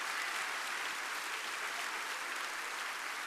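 A church congregation applauding during a Sunday morning Baptist service, a faint, even wash of many hands clapping that sounds distant and continues without a break.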